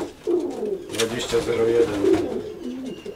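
Racing pigeons cooing close by in a loft, a series of soft throaty coos under someone talking in Polish.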